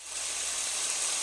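Onion and pigeon pea lentils hit hot oil with curry leaves, giving a sudden bright sizzle that swells and then holds as a steady hiss for a brief moment.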